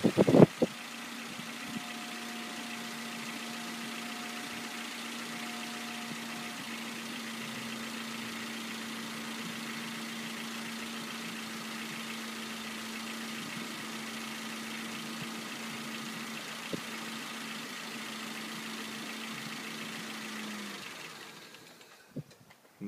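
A 1998-2000 Honda Civic GX's CNG engine idles steadily with a constant hum and faint knocking for about twenty seconds, then sputters and dies as it runs out of fuel, leaving near silence; a sharp clunk opens the sound.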